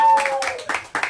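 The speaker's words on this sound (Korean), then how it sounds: "아, 박수!" Brief clapping from an audience at a church youth camp gathering, a few quick rhythmic claps following a short tone, close and moderately loud.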